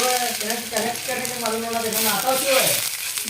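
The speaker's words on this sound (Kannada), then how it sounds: "ಈಗ ನೋಡ್ರಿ ನಾವು ಇದನ್ನ ಒಂದು ಸೈಡ್ ಒಂದು ನಲ್ವತ್ತು ಸೆಕೆಂಡ್ಗಳ ಕಾಲ ಫ್ರೈ ಮಾಡ್ಕೊಂಡಿರಿ" A chicken seekh kebab paratha frying in a pan gives a loud, continuous sizzle, with tonal harmonic sounds drifting over it and a sharp burst near the end.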